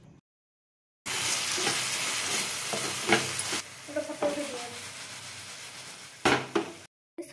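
Chhole masala with sauces is stirred in a hot frying pan, giving a loud close sizzle broken by scraping spoon strokes, with short pauses and a few clinks, with no talking.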